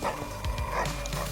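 Police K9 dog barking during a PS5 police patrol arrest in The Precinct, several sharp, close barks in quick succession over a steady game background hum, with no voices.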